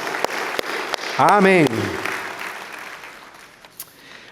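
A church congregation claps during a worship service, a dense wash of applause that tapers off while a voice speaks over it and a single sung syllable rises briefly above the crowd.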